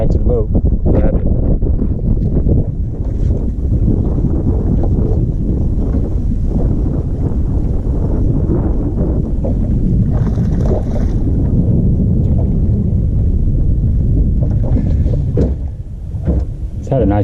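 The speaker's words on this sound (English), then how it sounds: "The wind's really picked up. It's blowing probably 20 miles an hour." Strong wind, around 20 miles an hour, buffets the microphone out on a lake from a fishing boat, a steady loud roar and rumble running throughout, with someone talking over it.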